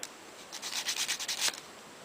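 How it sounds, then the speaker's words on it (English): The bottom of a small handmade fairy cottage is sanded flat: a short run of close, rhythmic rasping strokes, loud and alone, ending in one firmer stroke. "You can just sand the bottom"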